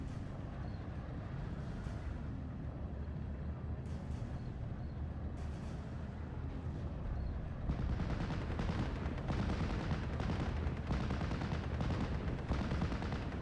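Heavy support gun firing in a wartime strategy video game, a steady stream of loud booming reports layered over continuous battle noise, growing denser and heavier in the second half.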